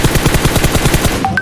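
Rapid automatic gunfire from the PUBG battle royale game, a steady burst of evenly spaced close shots lasting over a second before it cuts off.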